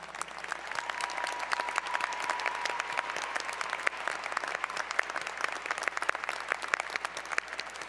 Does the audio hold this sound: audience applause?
yes